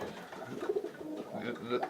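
Fantail pigeons coo repeatedly inside a loft, soft throaty warbling calls overlapping close by in an enclosed room, with a few brief rustles between them.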